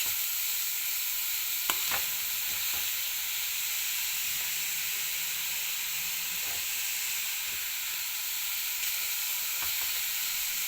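Papaya thoran sizzles and fries in a pan, a continuous soft crackling hiss with a few faint scrapes of stirring, steady and close with no talking.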